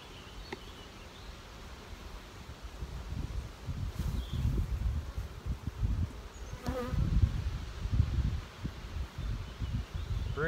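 A continuous, close hum of honey bees swarming over an open hive in a commercial apiary during a colony split, swelling and fading with light rustling and no talk.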